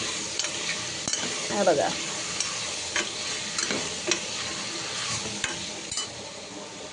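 Potatoes and green peas with spices being stirred and sautéed in a pan for a pea-and-potato pulao, giving a steady close sizzle with scraping stir strokes and light utensil ticks, plus a brief spoken remark.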